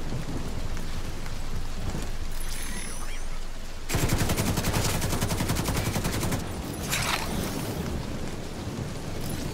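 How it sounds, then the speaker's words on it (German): A storm in The Division 2 video game brings steady heavy rain and rolling thunder, with a loud crackling burst midway and continuous downpour throughout. "Da und der Sturm bricht los."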